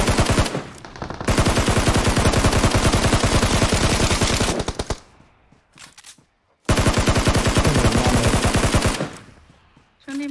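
Gunfire in a shooting video game: two long, loud bursts of rapid automatic fire, each running several seconds, separated by a short gap with a few scattered shots.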